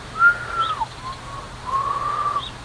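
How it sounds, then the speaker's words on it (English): A person whistles two long, wavering tones with faint upper overtones, a gliding note then a steadier one, close and clear against a quiet room. "Can you whistle?"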